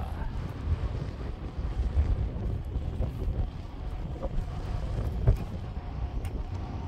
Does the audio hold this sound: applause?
no